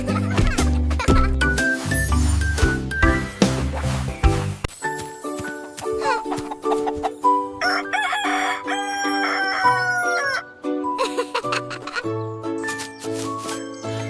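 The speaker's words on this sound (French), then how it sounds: "Le chant du coq réveille dans des balles de foin tout au long de la journée" Rooster crowing inside a French children's counting song, repeated crows set over bright tonal music with no talking.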